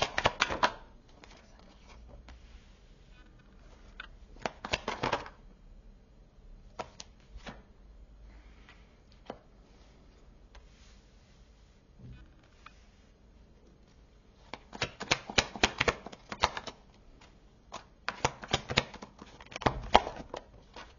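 Tarot cards shuffled for a reading, soft riffling and flicking bursts close by, quiet and intermittent, with the heaviest shuffling near the start and end.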